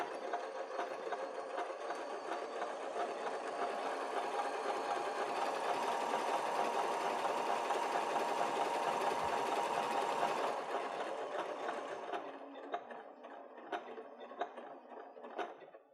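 A sewing machine stitching a zigzag on a fabric pumpkin applique runs as a steady, fast mechanical whir for about ten seconds, then slows to a few separate clicks and stops, close and fairly quiet.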